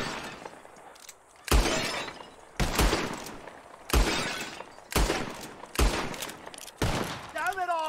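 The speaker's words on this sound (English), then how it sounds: "Whoever shoots more of these bottles wins." Six loud gunshots, each with a glass-shattering burst, fired roughly a second apart at bottles in a video game shooting contest, close and punchy, with a brief voice-like sound at the end.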